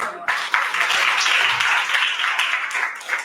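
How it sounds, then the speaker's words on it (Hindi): A church congregation applauding during a sermon, a dense, sustained round of clapping from many hands at moderate distance, with faint voices mixed in. "तालियां बजाएं।"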